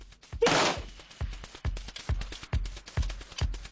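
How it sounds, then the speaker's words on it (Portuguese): A loud burst of 25 rifles fired at once in a volley, followed by a series of sharp, evenly spaced cracks with low thumps, recorded up close at a shooting range. "25 homens disparam de uma só vez."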